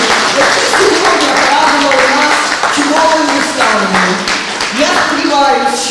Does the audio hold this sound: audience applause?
yes